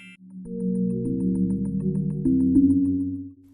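London's Big Ben clock tower chiming, a few sustained, ringing tones stepping from one pitch to the next, loud and clear with no voices.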